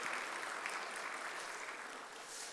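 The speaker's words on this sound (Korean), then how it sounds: "박수해 주시기 바랍니다." A church congregation at a Sunday worship service in Jeonju applauds in a dense, even wash of many hands clapping together, sustained for a few seconds before easing slightly.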